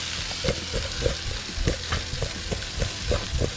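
Chicken wings are shaken in a bowl with Old Bay seasoning, giving irregular soft thumps and rustles over a steady sizzling hiss from a Blackstone griddle.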